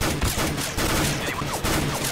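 Rapid gunfire bursts in Counter-Strike: Global Offensive, sharp, light popping shots like a paintball gun, close and loud in quick repeated volleys with brief gaps.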